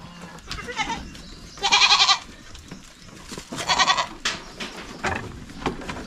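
Goats bleat on a farm near their pen, several loud wavering calls spaced apart with rustling and shuffling between them, close by.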